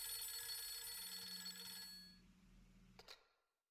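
A telephone in the Fatal Frame III survival horror game rings with a steady electronic trill that then stops. A short click follows, then silence.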